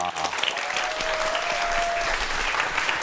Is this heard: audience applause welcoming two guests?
yes